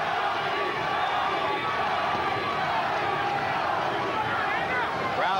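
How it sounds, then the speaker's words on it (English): Boxing arena crowd chanting a fighter's name, a loud, steady roar of massed voices with rhythmic chanting and whoops filling the space throughout. "Crowd chanting Gatti."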